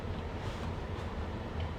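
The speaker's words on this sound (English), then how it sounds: "Excuse the dryer noise." A clothes dryer running nearby in a home, giving a steady broadband whooshing rumble with no breaks, heard alone at moderate loudness.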